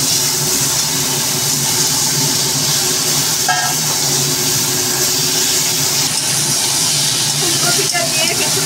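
Cauliflower hits hot spiced oil in a pan, giving a loud, steady frying hiss that carries on unbroken, with faint tonal sounds in the background.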